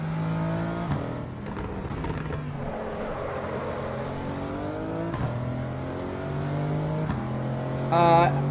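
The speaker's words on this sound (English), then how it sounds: "And I'm just over-revving." A car engine over-revs in stop-and-go traffic, a steady loud drone that climbs and drops in pitch between brief lulls, with a sharp high whine near the end.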